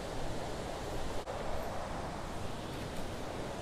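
Sri Dit waterfall at Khao Kho in Phetchabun, Thailand, heard as a steady, full roar of falling water that fills the air without pause.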